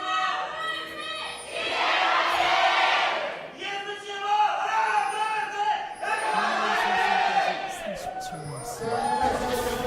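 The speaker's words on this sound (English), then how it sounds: "Much better cheer there from the Ever side." A crowd at an LCK Summer esports match between CJ and ESC roars and cheers in long, loud swelling waves with shouts and whoops, an excited voice talking over it through parts of the din.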